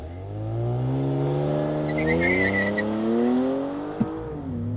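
An Audi RS6 launches from standstill under launch control, its engine note climbing through the gears in rising harmonic sweeps. It stays loud and close from inside the cabin, with a brief thump near the end.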